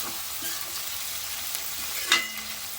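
Onion and tomato pieces sizzle steadily in a hot pan, with a soft, continuous frying hiss and a few faint stirring clinks, close and quiet with no talking.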